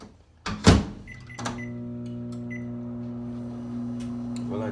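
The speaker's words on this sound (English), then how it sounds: "It's in the microwave." A kitchen microwave oven starts with a door clunk and beeps, then hums steadily and close by, alone without talk, running at an even drone through the rest of the clip.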